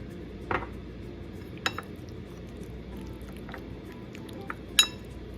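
Chicken with bitter gourd and salted black beans is stirred in a pan with a spoon, giving a few sharp, sparse clinks of metal on the pan over a quiet background hiss.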